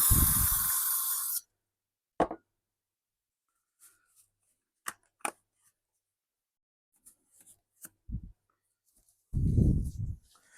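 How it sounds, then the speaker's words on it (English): Contact cleaner sprays into a Tineco Floor One S3 vacuum motor in two loud, close hissing bursts, one at the start and one near the end, separated by quiet handling clicks. "And a little bit of contact cleaner in there."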